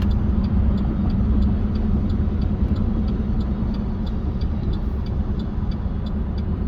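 Steady low engine rumble and road noise from a 2009 Chevy Silverado pickup driving along, smooth and constant throughout, with no talking.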